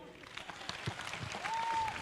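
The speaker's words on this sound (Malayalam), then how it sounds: "നല്ലൊരു കൈയടി കൊടുത്തേ." A Malayalam comedy stage audience applauds, a dense, steady clatter of many hands clapping together across the whole moment, with a brief thin whistle near the end.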